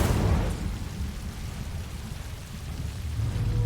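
Incendio fire spell cast over and over in Hogwarts Legacy, a steady roaring burst of flame with a loud whooshing rumble that dips slightly and swells again near the end, with no talking.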